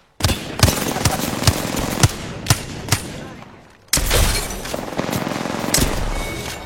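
Video game gunfire rattles out in loud, rapid bursts of sharp shots. The shots are spaced through the first half, there is a short lull, and then denser firing resumes alongside other in-game effects.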